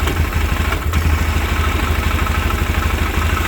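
Engine of a 2000 Polaris Sportsman 500 6x6 ATV idling steadily and loudly up close, a low rumbling pulse with light clatter, running alone without talk.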